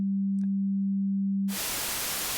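A steady pure low synthesizer sine wave tone hums alone for about a second and a half, then cuts abruptly into loud hissing noise.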